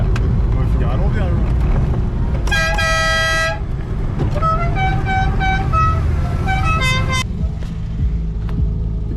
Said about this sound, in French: Tout le monde met son klaxon.